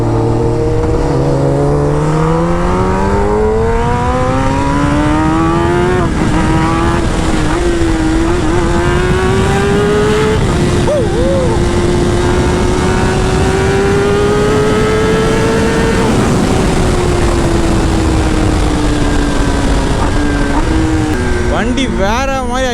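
Kawasaki ZX10R sport motorcycle accelerating hard along an open road, its engine note climbing steadily through the gears with rising and falling pitch, loud and close throughout, with a brief lull and renewed revving near the end.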